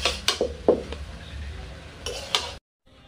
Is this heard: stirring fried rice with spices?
yes